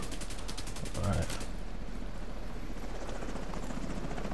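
A helicopter's rotor in the video game The Division 2 thumps rapidly, mixed with bursts of gunfire and a brief low boom.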